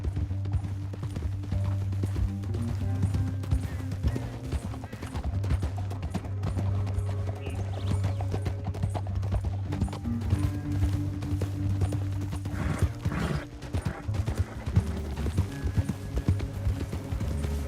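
Horse hooves clop rhythmically at speed in the Red Dead Redemption 2 western game, a steady galloping patter carried under a low sustained musical drone, with no talking.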